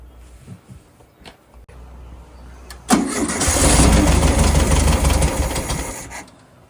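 A car engine cranks over and catches during fuel system installation on a project car, a loud steady churning that starts abruptly and runs for several seconds before cutting off, after a brief quieter stretch of background noise.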